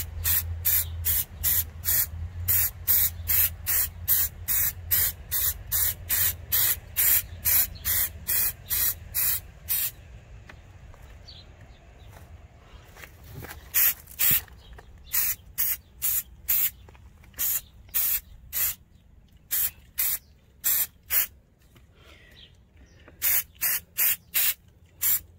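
A hand sprayer misting callaloo plants against spider mites, giving rapid rhythmic bursts of hissing spray, close and loud, with a short pause and a few quieter gaps before the bursts resume.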